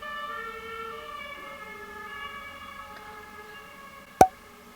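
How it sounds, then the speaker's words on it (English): Sirens sound in the distance outside, a steady faint wailing with layered tones, and a single sharp click or knock lands near the end. "Sirens."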